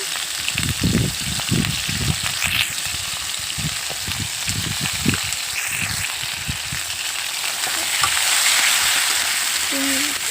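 Spices, salt, turmeric and chili powder stirred into potatoes frying with ginger and garlic for a Bengali fish and potato curry: a steady oily sizzle under repeated dull stirring knocks, close and moderately loud.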